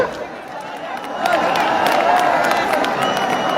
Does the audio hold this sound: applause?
yes